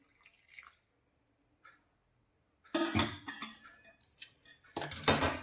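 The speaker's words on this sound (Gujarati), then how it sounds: "અડધી વાટકી જેટલું ગરમ કરેલું પાણી અંદર ઉમેરીશું" Half a bowl of hot water is poured into an eggplant and val bean curry, a short splash and trickle followed by clinks of a spoon or vessel after a quiet start.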